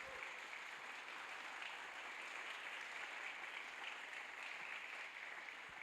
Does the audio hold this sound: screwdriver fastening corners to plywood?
no